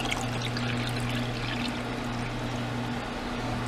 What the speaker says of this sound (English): We're gonna add our water.